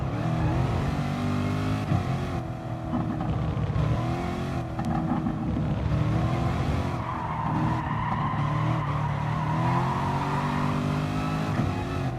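Race cars in Gran Turismo Sport hold a long tire squeal as one spins out, with engines revving and shifting pitch underneath, loud and continuous throughout.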